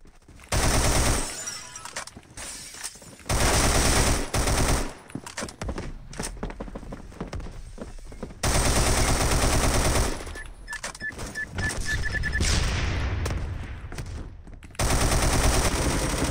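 Bursts of M1918A2 automatic rifle fire in the Roblox shooter Phantom Forces, several loud, close rapid-fire strings separated by short pauses, with game ambience and footsteps between.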